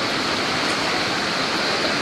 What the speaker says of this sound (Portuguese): A água está subindo de novo aí